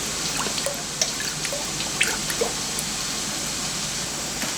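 Water drips and trickles off steel parts during a rinse, with irregular small drips and splashes over a steady running-water hiss, close by.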